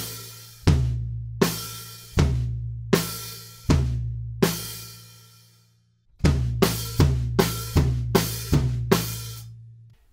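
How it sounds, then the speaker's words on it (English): A close drum kit plays a steady quarter-note beat, moving from toms onto snare and an open hi-hat, with punchy hits and a washy cymbal sustain between them, alone without talk. "we're just playing quarter notes going from the toms and then onto the snare and an open hi-hat"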